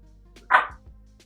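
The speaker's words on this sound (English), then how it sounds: "my dog's barking a little bit" A single sharp bark from a pet dog indoors, close and moderately loud, with a quiet room hum around it.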